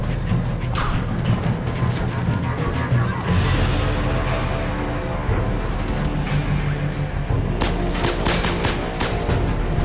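Dense gunfire in the video game Bionic Commando, steady bursts of shots and mechanical clatter under a constant rumbling backdrop, with a cluster of sharper cracks near the end.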